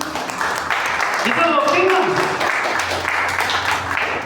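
Church congregation applauds during a sermon, a steady broadband patter of clapping running underneath a preacher's loud spoken voice throughout.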